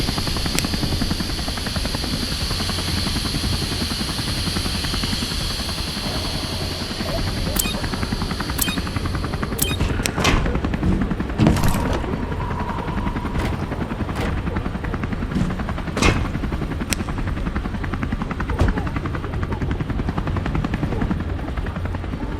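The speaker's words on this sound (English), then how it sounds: "That helicopter you're hearing is one of the" A helicopter in the video game Level Zero: Extraction drones steadily and loudly throughout, with a run of sharp, impulsive cracks layered over the rotor noise in the second half.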